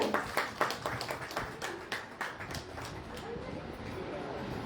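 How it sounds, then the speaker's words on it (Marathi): Audience at a Maratha Seva Sangh installation ceremony in Barshi clapping, a short burst of scattered applause with distinct hand claps that gradually thins into a softer blur of room noise. "एकदा जोरदार टाळ्या या सगळ्यांसाठी होऊन जाऊ द्या."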